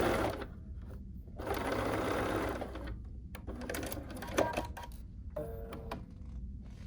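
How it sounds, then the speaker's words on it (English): Sewing machine stitching through pinned fabric in a run of steady mechanical chatter, with short pauses between bursts; no one speaks over it. "Don't forget to remove those pins before you get to them."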